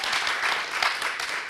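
A short burst of loud, dense applause from a gathered audience, a steady rushing wash of clapping with no pauses and no talk over it.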